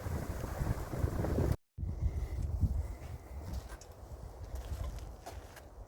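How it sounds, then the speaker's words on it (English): Strong gusty wind buffets the microphone outdoors at a greenhouse build, a dense roaring rumble that cuts out briefly to silence, then resumes with slightly lighter, fluttering bursts. "I'm getting a lot of wind here."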